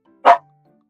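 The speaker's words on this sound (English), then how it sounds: "My bad, my dogs are barking." A single short dog bark, fairly close and sharp, followed by quiet.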